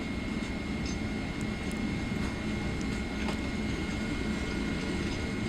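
Airliner engines spooling at takeoff thrust during the takeoff roll in Microsoft Flight Simulator, a loud steady jet roar and rumble with a faint high whine, no voices.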